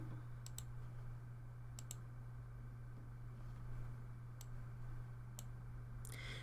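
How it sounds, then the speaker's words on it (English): Sharp computer mouse clicks in an administrator web portal, a handful of quick single and double clicks spaced apart over a low steady electrical hum. "simply click Submit"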